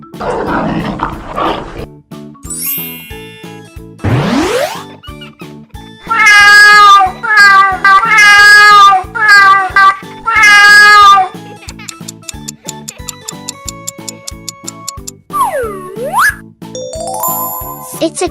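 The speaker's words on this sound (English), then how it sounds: "It's a cat." A cat meows several times in a row, loud and close, drawn-out wavering calls in the middle stretch, mixed with a bouncy musical bed of plucked notes, chimes and sweeping effects.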